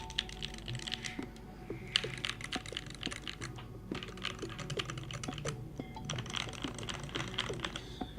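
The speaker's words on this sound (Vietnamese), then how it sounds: "Cảm giác gõ của nó đã gần tiệm cận đến với những bộ bàn phím cơ rồi." Rapid, steady keystrokes on an LED-backlit keyboard with a near-mechanical typing feel, a dense clicking patter heard up close and fairly quiet, with no voices.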